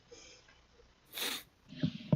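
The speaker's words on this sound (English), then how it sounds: "if you hear sneezes from the other room, which are frequently very loud sneezes" A single sharp sneeze bursts out in a quiet room, followed by a brief snort or sniffle; muffled and somewhat distant, coming from another room.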